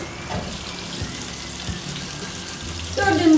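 Çinekop (young bluefish) frying in a pan, giving a steady, even sizzle that hisses on throughout with little change, growing slightly louder and busier near the end.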